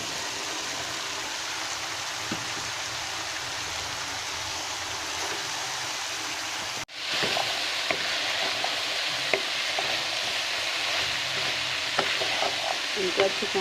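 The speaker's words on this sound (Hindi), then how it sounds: "अब इसमें आलू और गाजर कटी हुई डाल रही हूँ मैं" Chopped potatoes and carrots in hot mustard oil, a steady loud sizzle that jumps abruptly louder midway as the vegetables go in, followed by a rougher hiss with occasional scraping from stirring nearby.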